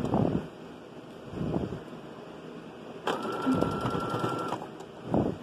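Sewing machine stitching a seam of a pinafore dress: a faint, steady mechanical whir runs for about a second and a half amid soft handling noises and light breath-like rustles.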